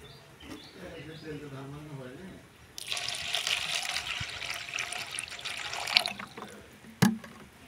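Sago pearls rinsed in water in a kitchen, a broad splashing, running-water wash starting about midway and lasting several seconds, ending with a couple of sharp clinks as the water is drained; a faint voice hums beforehand.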